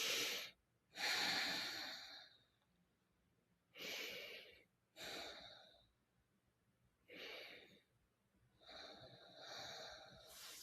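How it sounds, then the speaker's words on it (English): Slow, deep mindful breaths drawn in and let out in a steady rhythm, each inhale and exhale a long, close, airy rush separated by brief pauses, with no talking. "You can keep breathing."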